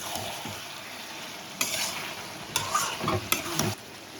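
Fish oil curry with turmeric and chili being stirred in a frying pan, a steady soft sizzle broken by several louder scraping stirs toward the end, close and with no talk.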